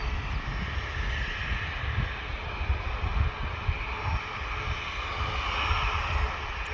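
A Ryanair jet comes in to land at Manchester Airport on a very hot day, its engines giving a steady, loud roar that holds throughout without any talk.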